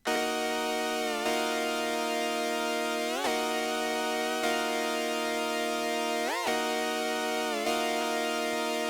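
A sustained, buzzy synth chord opens a hip-hop club track, playing steadily with periodic pitch-bending swoops, loud and upfront, with no drums or vocals yet.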